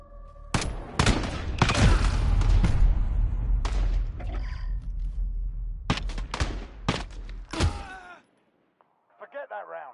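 Loud, dense gunfire in the Call of Duty video game, a sustained fusillade of rapid shots with booming low end for about eight seconds, then a few separate bursts, ending in near silence and faint blips.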